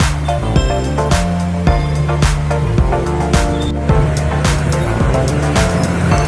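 Evening road traffic on Margonda Raya in Depok, with vehicles heading toward Depok and Citayam on one side and toward Jakarta on the other, forming a steady, loud rumble of engines and passing cars with repeated sharp transient clatter throughout.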